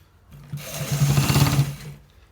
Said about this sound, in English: So we are stitching it.